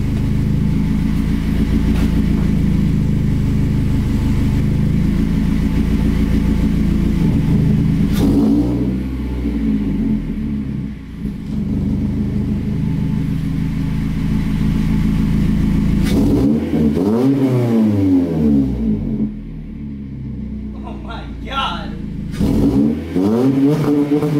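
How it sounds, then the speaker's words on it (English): A 2019 Toyota Corolla Hatchback fitted with a 2J Racing mid pipe, heard close up at a steady idle and then revved several times, each blip rising sharply and falling back to idle, loud with no talk. "Alright, gonna give it a few revs."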